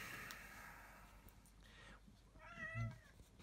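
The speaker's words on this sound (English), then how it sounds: "The cat has an opinion." A house cat lets out a single short, fairly close meow near the end, after a stretch of quiet indoor background.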